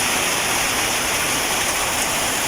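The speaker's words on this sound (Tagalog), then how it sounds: "Halos lahat may tulo mga kaputak." Rain falls on and leaks through a galvanized iron roof, a dense, continuous hiss of water with no pauses and no talking.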